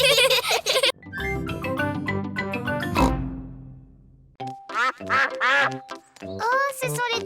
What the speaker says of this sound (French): Oh, ce sont les canards.